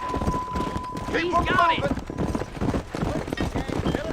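Horse hooves clip-clop in a steady, quick rhythm while riding in Red Dead Redemption, with a whinny partway through and someone talking over the galloping.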